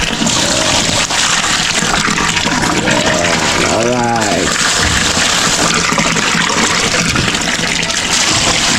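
Water runs steadily from a tap in the background throughout, a constant rushing wash, while someone talks over it in Filipino.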